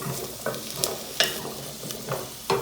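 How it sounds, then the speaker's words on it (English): Chopped vegetables with carrots sauteing in a pan for chick pea soup, a steady sizzle broken by several sharp scrapes and clinks of a stirring spoon, close and moderately loud, with no talking. "we're just going to let this saute"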